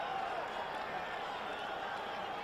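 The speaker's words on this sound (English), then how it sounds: "You might have heard the crowd cheering a little bit" Broad crowd noise from a football stadium during a 1980 Redskins vs. Raiders game, a steady, distant roar of fans with no breaks.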